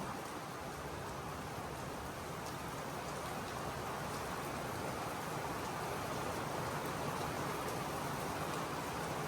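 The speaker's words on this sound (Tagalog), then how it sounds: "Ay, lakas ang ulan." Steady heavy rain pours down with a dense, constant hiss and patter, unbroken from start to finish, with no voices.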